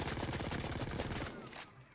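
A game turret in Payday 2 fires a rapid, continuous burst of automatic gunfire that rattles loud for over a second, then cuts off abruptly.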